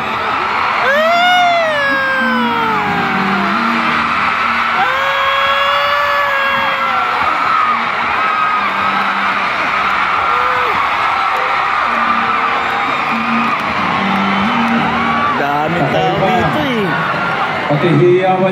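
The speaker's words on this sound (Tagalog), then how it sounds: "Pati hiyawan nyo, kakaiba." Large crowd at a film festival screaming, whooping and cheering loudly and continuously, with high shrill shouts rising and falling over a dense roar of voices.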